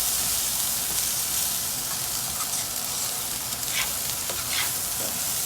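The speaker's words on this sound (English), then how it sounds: "fry the rice with the peas" Rice and peas frying in a pot, a steady close sizzle with a constant hiss and occasional scraping stirs, no talk.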